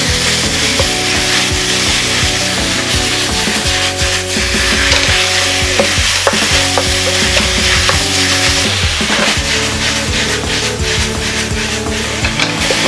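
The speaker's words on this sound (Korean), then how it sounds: "충분히 잘 볶아주세요." Spicy Korean pork jeyuk bokkeum is stir-fried in a pan over high heat, a loud steady sizzle with repeated scraping and clanking strokes of the utensil, close and continuous throughout, with no talk.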